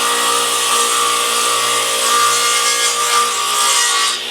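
A radial arm saw runs along a board to joint its edge, taking off a very thin shaving. The loud, steady whine of the blade with rasping wood contact is close up and sustained, fading slightly at the end.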